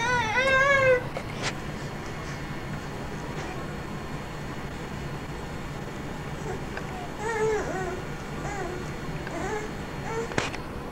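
A cat meows close by, with a run of quick rising meows at the start and a few softer meows later, while people talk quietly in the background.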